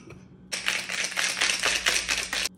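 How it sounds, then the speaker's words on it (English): Ice is shaken hard in a cocktail shaker for a jalapeno mule mocktail made with lemon juice. The rattle is loud, close and rhythmic, running for about two seconds and then stopping abruptly. "and give it a good shake."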